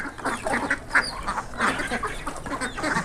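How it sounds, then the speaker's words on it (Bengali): A flock of domestic ducks quacks busily on a farm while being fed grain, overlapping calls near and continuous throughout with a few louder honks among them. "এই যে এখন হাঁসে খাবার দিছে, চাল দিছে মনে হয়"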